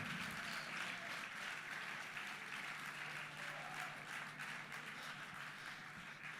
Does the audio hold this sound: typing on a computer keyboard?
no